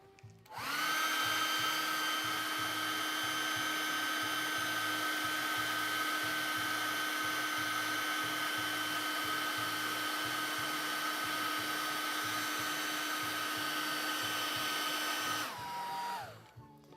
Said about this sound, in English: Let's give this a quick blow dry.